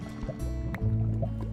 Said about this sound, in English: I can definitely hear lava bubbling around still.